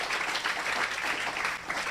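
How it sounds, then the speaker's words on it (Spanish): Church congregation applauding during a Sunday afternoon service, a steady wash of many hands clapping at moderate volume, continuous throughout with no speech on top. "denle un fuerte aplauso a nuestro Padre Celestial"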